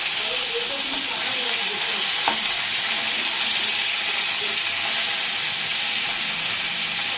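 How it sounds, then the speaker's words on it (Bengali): A hilsa fish head fries in oil with five-spice, giving a continuous bright hissing sizzle at an even, fairly loud level throughout, no talking. "এই যে ইলিশ মাছটা ভাজছি"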